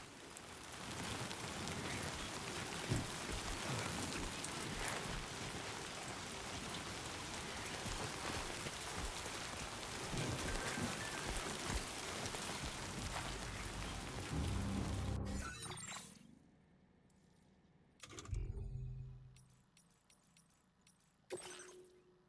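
Timefall rain in Death Stranding 2 pours steadily as a dense, even hiss for about fifteen seconds, then cuts to quieter gaps broken by short bursts of noise.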